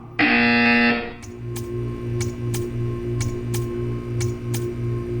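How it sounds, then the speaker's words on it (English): A loud electronic buzzer in the video game Portal 2 blares for about a second, then a steady hum with a run of sharp regular ticks follows. "You will hear a buzzer. When you hear the buzzer, stare at the art."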